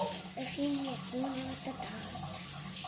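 Lukewarm water runs steadily from a tap into a sink, checked against a wrist while making pizza dough, a soft hiss beneath a person talking throughout.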